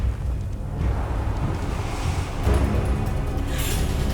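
Incendio fire spell cast in Hogwarts Legacy: a loud roaring, whooshing burst of flame that swells again midway, heavy rumbling low end with airy crackle on top, no voices.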